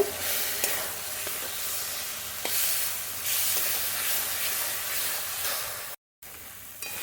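Garlic and ginger paste, with cumin, sizzles in a small amount of hot oil in a pan while a fish-head curry is cooked, a steady close hiss with a few light stirring clicks and a brief dropout near the end.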